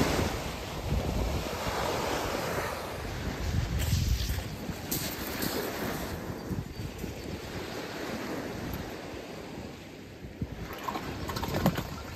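Gusty wind buffeting the microphone by the sea, rumbling continuously over the soft wash of surf.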